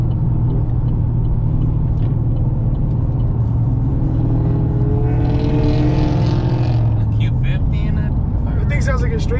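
A loud, steady low exhaust rumble from a straight-piped LS-engined car driving on a highway, swelling briefly mid-clip as the engine note rises, with road noise throughout.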